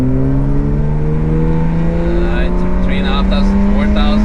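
A Mercedes E36 AMG W124 Cabrio with a 3.6 engine in manual mode revs hard on kick-down, a loud steady engine drone climbing in pitch throughout, with people talking over it in the car.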